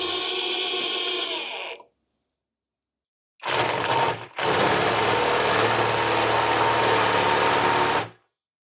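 Tecepo 21V cordless impact driver sinking a screw into wood with a PH2 bit, loud and close: a short whir, a pause, then a brief burst and a long, steady hammering rattle that stops abruptly.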